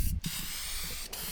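Short close bursts of aerosol spray paint hissing onto a brake spindle on a 1996–2000 Honda Civic during a rear disc brake swap, a continuous hiss with two brief pauses.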